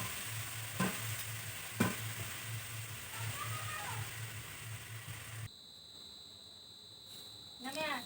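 Food sizzles and fries in a pan in a home kitchen while a utensil stirs it, with a couple of sharp scrape clicks. Partway through, the frying drops away to quieter background noise and a high electronic tone.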